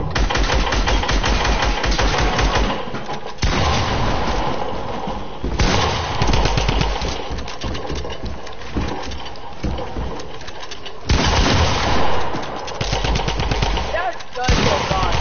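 Rapid machine gun bursts in a video game fire in repeated volleys across the whole stretch, loud and close, broken by brief pauses between strings of shots.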